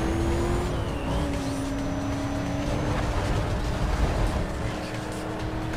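Porsche racing car engine in the Need for Speed Most Wanted video game, a steady loud roar with shifting engine tones and gear changes, alongside other traffic noise, continuous throughout.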